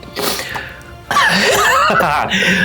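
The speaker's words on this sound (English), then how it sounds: "got you coughing" Harsh, raspy coughing bursts up close, a rough hacking fit that breaks into strained, wheezy throat sounds.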